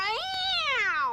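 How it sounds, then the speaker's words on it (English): A Manx cat on the Isle of Man gives a single long, drawn-out meow with a rising then slowly falling pitch, close and clear with no talking over it. "I'm a Manx cat and I was born in the Isle of Man"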